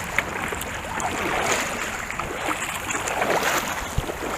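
Boat pushing upstream against the rapids of the Allegheny River, a continuous rushing, hissing water wash with wind and faint knocks, fairly close and steady, no talking.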